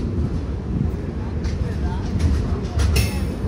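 The Kondaveedu Express rumbles at Puttaparthi station's platform 1, a deep continuous low rolling drone with faint higher clanks near the end, steady and close throughout.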